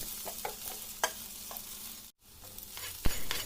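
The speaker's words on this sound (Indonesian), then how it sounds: "Goreng bawangnya dulu sampai harum dan wangi." Chopped garlic and shallots fry in hot oil with a steady, soft sizzle, broken by scattered clicks of stirring and one brief pause.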